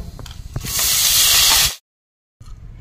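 Soaked rice tipped into hot ghee with fried dry fruits while making Marathi coconut rice, a sudden loud, bright sizzle that hisses steadily for about a second, then cuts off to silence before faint kitchen sounds return.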